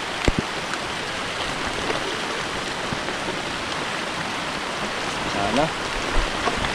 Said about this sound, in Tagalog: Ulan-ulan mga katropa. Bagyo pa kasi dito sa amin.